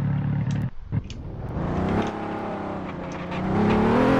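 Car engine droning steadily in a Roblox driving game, with a convertible being driven and a boost kicking in; the engine note rises and swells toward the end, continuous and fairly loud, with no talking.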